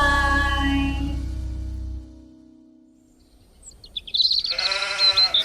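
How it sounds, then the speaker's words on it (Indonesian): Sheep bleat: a long, low, wavering cry at first, then after a short quiet gap a run of higher, louder, shaky bleats close by. "Sepertinya domba-dombaku sudah aman."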